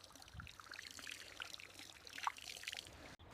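Irrigation water pours into a wheat field in a village, a faint, steady trickling stream that runs alone and low throughout.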